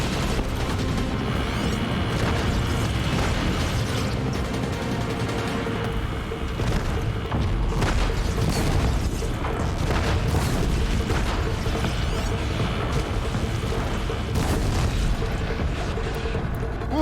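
Shock bomb explosions in Horizon Zero Dawn crackle and boom through a loud, dense battle, with thick rumbling blasts and bursts layered over continuous combat noise that never lets up.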